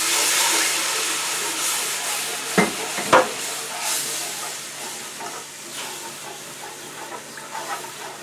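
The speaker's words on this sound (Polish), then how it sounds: "Zagotowujemy, mieszając ciągle." Broth being stirred into a gherkin pickle sauce in a cooking pot gives a steady hissing, simmering wash with a couple of sharp spoon knocks early on. No voices are heard.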